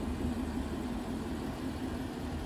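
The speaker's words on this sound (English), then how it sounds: "that's the ceramic long tube JBA long tube headers connected to the off-road JBA X pipe" A 2013 Mustang GT with ceramic JBA long tube headers and an off-road JBA X-pipe idles with a steady, low, fairly quiet exhaust rumble, no talking over it.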